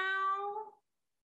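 A human voice imitates a cat's meow during a puppet show: one drawn-out, tonal meow lasting under a second, close and clear, that fades into silence.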